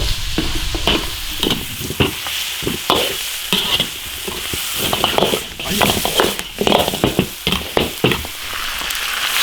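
Beef feet stir-fried in a wok with Sichuan pepper and dried chili, giving loud crackling sizzle and repeated scraping strokes of the spatula in an irregular rhythm, close up.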